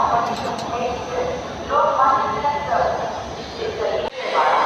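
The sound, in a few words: Garib Rath express train passing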